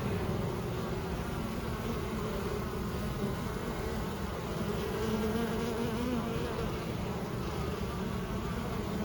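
A honeybee colony hums steadily at a hive box during installation, a dense, continuous close buzz of many bees holding an even level throughout with no talk.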